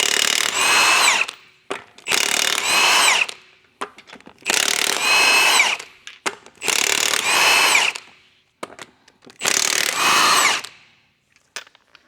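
Five loud bursts of a power tool spinning off 21 mm wheel lug nuts on a Ford Explorer ST, each whirring burst about a second long with short pauses and faint clicks between.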